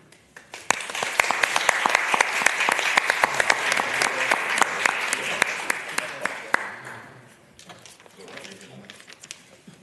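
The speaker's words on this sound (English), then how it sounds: "That was a rousing applause and well-deserved." A crowd at a Ramsey County meeting breaks into applause that builds quickly, holds strong for several seconds, then tapers to a few scattered claps.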